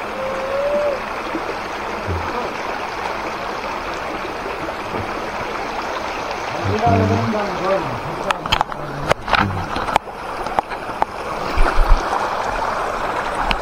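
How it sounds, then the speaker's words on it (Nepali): A river stream flows steadily at a riverside ghat, its constant wash carrying under the whole stretch while people talk nearby and clicks and handling noises break in toward the end. "यहाँ चाहिँ खोला छ"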